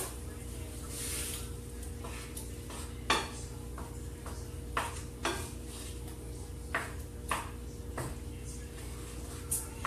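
Utensil stirring food in a pot simmering on a stove while cooking mushroom smothered pork chops, soft irregular scrapes and light clinks against the pot over a low steady background hum.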